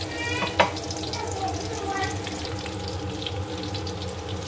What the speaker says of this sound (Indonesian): Langsung sekarang mau saya goreng sama dengan bawang merahnya.